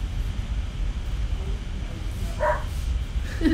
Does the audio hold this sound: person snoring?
no